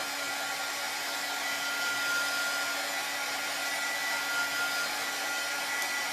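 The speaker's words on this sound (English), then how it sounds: "So we'll just hit it with the dryer." A hair dryer blows steadily and loudly to dry chalk paste on a pumpkin, a continuous broadband whoosh with a faint motor whine that holds even for about six seconds with no talking.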